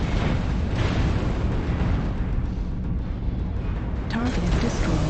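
A battle mech is destroyed in a MechWarrior Online match, a loud, heavy, rumbling explosion burst that fills the mix continuously with a deep roar, ending with a few sharper metallic tones and faint voice-like sounds.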